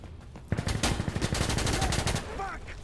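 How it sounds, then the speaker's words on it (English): Rapid automatic gunfire from a competitive online shooter match, a loud burst of closely spaced shots lasting about two seconds, followed by quieter game sounds. "And so Twizzy tries to get the shot off."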